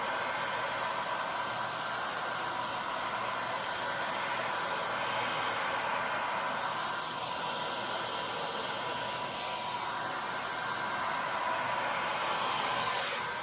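A heat tool blows steadily onto paint, giving a continuous, fairly loud airy whoosh with no breaks from start to finish and no one speaking over it.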